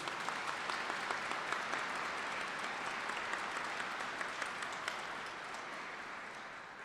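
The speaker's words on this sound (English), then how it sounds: "Maybe a round of applause for those two little amazing future leaders." A large audience applauds at a Louis Riel commemorative ceremony for two young speakers, with dense, steady clapping that stays loud and fills the whole stretch before tapering slightly at the end.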